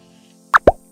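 Curtain hooks run along a sound-dampening wave tape curtain rail, giving two brief, soft knocks in quick succession against a quiet background.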